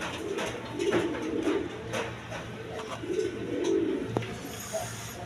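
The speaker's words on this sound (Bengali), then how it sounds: "একদম বিগ সাইজের কবুতর" Large satin pigeons cooing in repeated low, throaty phrases at close range, several rounds over a steady background hum, no speech.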